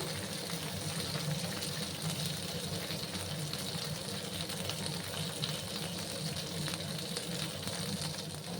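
Okra frying in a pan for a vegetarian dish, a steady low crackling sizzle that holds evenly throughout, close and moderately loud.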